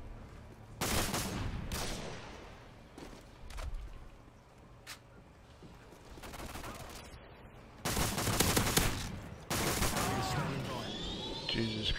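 Modern Warfare 2 gunfire comes in several loud bursts, including longer rattling volleys near the end, with quieter gaps between and a voice talking over parts of it.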